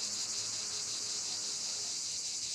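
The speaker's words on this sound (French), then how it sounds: "Le ciel bleu, la verdure et le chant des cigales." Cicadas sing in southern France on a summer day, a dense, steady high-pitched buzzing drone that pulses slightly, loud and continuous throughout with no voices.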